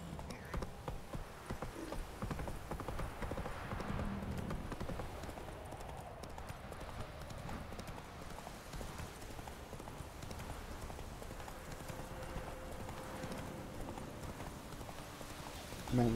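Roach, the horse in The Witcher 3, gallops along with a continuous, even clip-clop of hooves that holds at a moderate level the whole way through, with ambient game sound and no talk.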